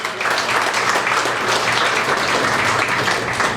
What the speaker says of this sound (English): so that deserves a round of applause before we get going as well